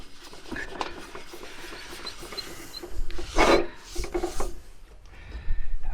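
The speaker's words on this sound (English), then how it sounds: "There's a little bit of muck in there that you just give it a bit of a rub." A cleaned camp oven being rubbed out by hand, steady close scraping and rasping strokes that grow louder in short bursts toward the end, with no talking.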